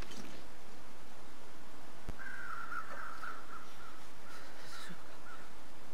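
Crows cawing in the snowy wilderness of the video game The Long Dark, a few faint, distant calls strung out over steady wind noise.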